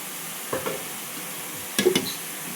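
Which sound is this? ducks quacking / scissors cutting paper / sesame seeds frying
sesame seeds frying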